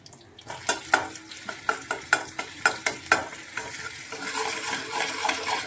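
Soybean chunks are lightly fried in a pan and stirred, with sharp rhythmic scrapes of the spoon against the pan over a steady sizzle that grows fuller toward the end.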